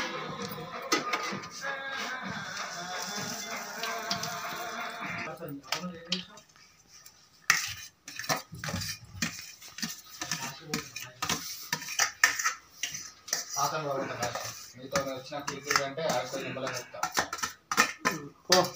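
Tamarind rice being stirred by hand in a metal pot: scraping clinks of a spoon against the vessel in uneven bursts, near and fairly quiet, with people talking at times.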